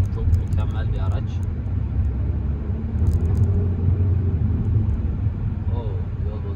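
An automatic Fiat Egea Cross with a 1.6 130 PS engine drives over a rough, broken road, its low rumble and road noise steady and close inside the cabin while someone talks over it.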